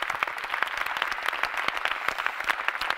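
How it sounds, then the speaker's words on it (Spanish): A large audience at a Podemos political event in Spain applauds steadily, a dense continuous wash of clapping from many hands with no voices over it. "Así que un aplauso inmenso para ellas y para ellos."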